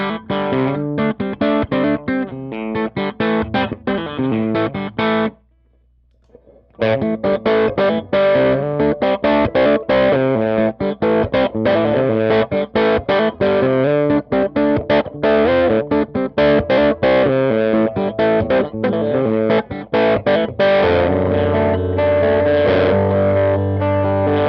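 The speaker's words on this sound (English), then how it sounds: "this pedal, I'm going to boost 500 hertz here" Electric guitar through a Sonicake EQ pedal with 500 Hz boosted plays a driven, distorted riff with busy picked notes and chords, loud and continuous apart from a short gap near the start.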